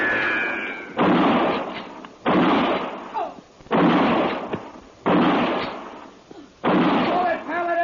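Gunfire in a western shootout, with a rifle and a Derringer in play: several loud, sharp blasts in a row, each ringing out for about a second, with talk between them.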